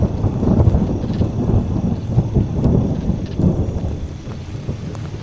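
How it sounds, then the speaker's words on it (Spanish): Deep thunder rumbles steadily and loudly through a storm with rain and some wind in an audio horror story, with no voice over it. "Arriba, el trueno seguía retumbando"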